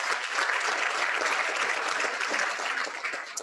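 An audience at a Rotary Club of Fort Worth meeting breaks into sustained applause for a bank sponsor, with thick, even clapping throughout and a slight fade at the very end.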